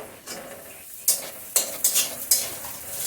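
Chopped onion with whole cardamom and cinnamon frying in a pan, a low sizzle broken by several sharp spatula stirs and scrapes against the metal.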